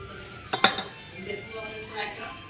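Brass drinking glasses and brass plates clink against each other as they are handled and wiped with a cloth: a quick run of three sharp, close clinks, then softer rattling and handling sounds with a faint voice in the background.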